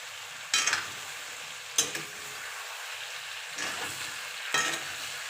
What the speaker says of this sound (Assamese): এনেকৈ লৰাই আকৌ 10 মিনিটমান ভাজি থাকিব লাগিব।